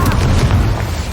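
A fire spell cast in the video game Hogwarts Legacy erupts as a loud, booming burst of flame that rumbles heavily and fades slowly over about a second, with no talk over it.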